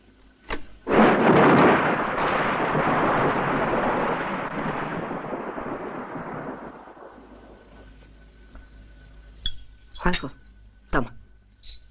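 A long rolling thunderclap during a storm swells loudly, then slowly fades over several seconds, followed by a few faint knocks and clinks.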